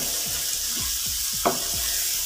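Tomatoes fry in oil in a pan for a Pakistani kadhi pakora, giving a steady close sizzle with a few soft stirring scrapes and one brief clink, no voices.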